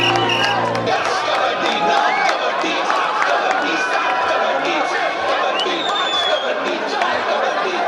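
A large outdoor crowd at a village kabaddi match claps and cheers steadily to welcome arriving guests, a dense continuous wash of applause and chatter throughout.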